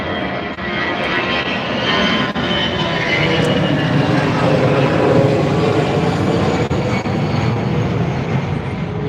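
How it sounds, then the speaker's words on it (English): A fixed-wing airplane passes overhead in Thailand, a steady broad engine roar holding at a fairly loud level for the whole stretch, with faint voices murmuring underneath. "It's almost like those planes are on some kind of regular schedule"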